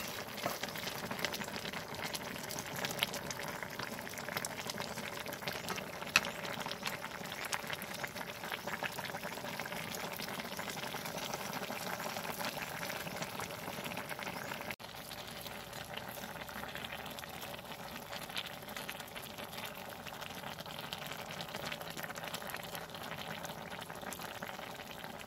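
Ginataang langka, a jackfruit stew in coconut milk, boils steadily in a pot with a soft, continuous bubbling that stays quiet and even throughout.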